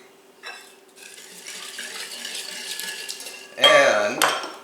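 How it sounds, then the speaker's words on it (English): Granulated sugar is whisked into dissolved yeast in a bowl for pumpkin spiced cinnamon rolls, giving close, continuous scraping and clinking that swells into a louder, brisker burst near the end, with no voices. "we're going to whisk in 1/3 cup of regular granulated sugar"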